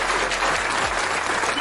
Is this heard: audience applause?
yes